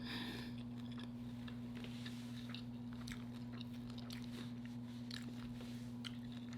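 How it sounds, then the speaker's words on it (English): Crunchy honey lemon pepper chicken wings being bitten and chewed close up, with crisp crackling bites scattered over a steady low electrical hum and no talking. "when your wings have that perfect crunch to them"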